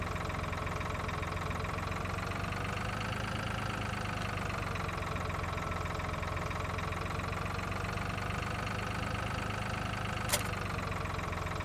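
Tractor engine in Farming Simulator 2013 drones steadily at idle, a constant mid-low hum with a brief click near the end, no talking.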